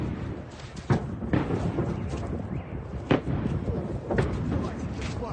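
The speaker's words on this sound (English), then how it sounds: "We can hear the explosions." Several dull explosions boom at irregular intervals at a Russian facility against a rumbling, noisy background, muffled and fairly distant.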